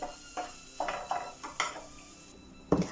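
A hot mixture being stirred in a pan, heard as a series of short scraping and clinking strokes of a spoon against metal, close and fairly faint, ending with a louder knock.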